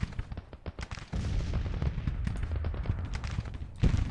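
Dense rifle volleys and booming artillery fire from a Grand Tactician: The Civil War battle crackle continuously, with rapid overlapping shots and heavier bursts layered throughout.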